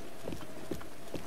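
A horse's hooves clip-clop on the ground in the Breath of the Wild video game, three soft evenly spaced footfalls over a steady rain-like background hiss.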